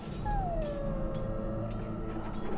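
A dog in Dragon Age: Origins lets out a long, drawn-out whine that rises, then slowly falls and sustains. It plays over steady game ambience and a low background hum, with no talking.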